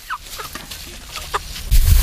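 Short bursts of clucking from free-running chickens being chased outdoors, several brief calls spread out, followed by a louder rustling, thumping burst near the end.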